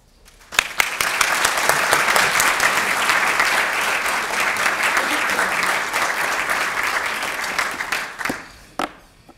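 Audience applause for a speaker at a talk, sustained dense clapping from a crowd that swells quickly, holds steady for several seconds and then tapers off with a few last claps.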